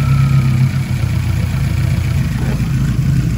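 A carburetted car engine with a Fueltech wideband fitted runs close by, a steady rumbling idle with slight swells in revs throughout.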